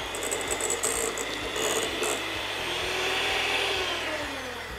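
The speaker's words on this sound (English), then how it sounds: "I'll use an electric mixer." An electric mixer beats a heavy tub's worth of margarine for vanilla cake batter, giving a loud, steady whirring drone with faint rhythmic rattling throughout and no voices.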